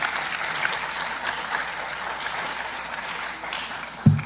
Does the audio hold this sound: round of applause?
yes